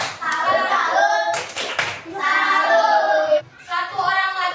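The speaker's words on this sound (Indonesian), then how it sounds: "Kita beri tepuk salut untuk ketiga orang yang sudah maju" A classroom group of children claps together in brisk, continuous bursts of applause for three students, with short pauses between rounds and children's voices mixed in.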